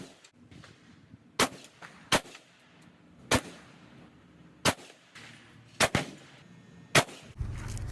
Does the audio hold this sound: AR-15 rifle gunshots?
yes